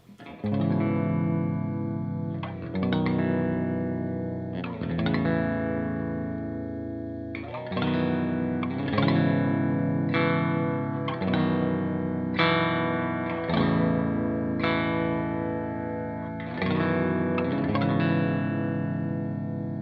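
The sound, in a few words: Bass VI guitar playing chords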